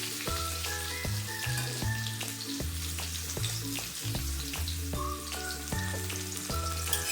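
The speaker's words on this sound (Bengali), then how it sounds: "কাঁচা আম একটু ভেজে নেব।" Raw mango is fried in a pan with salt and turmeric, giving a steady sizzle that runs beneath a stepping melodic music track.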